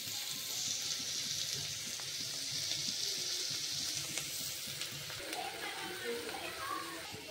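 Chopped onion frying in hot mustard oil in a pressure cooker: a steady, fairly faint hiss and sizzle runs throughout under occasional talking.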